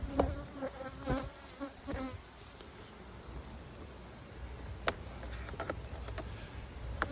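Honeybees drone steadily around an open long hive, known as Oliver's hive, during a mite treatment check, with a dense continuous hum and a few sharper close fly-bys passing the microphone.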